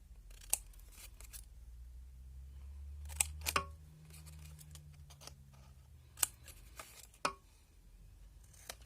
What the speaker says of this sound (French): on va venir couper les angles, hop, de notre petite languette